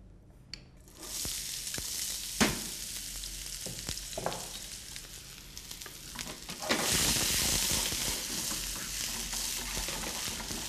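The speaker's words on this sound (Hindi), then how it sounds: "वो कीमे को बनाने के लिए एक पैन में हमने तेल गरम किया है। उसके अंदर प्याज को भून लेंगे" Finely chopped onions frying in hot oil in a pan for keema paratha stuffing, with a steady loud sizzle and occasional stirring scrapes that swell into a stronger hiss toward the end.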